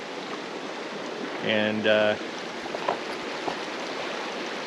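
A river flows steadily near a campsite as a broad, constant rush of water, loud and close. A brief spoken word cuts through it.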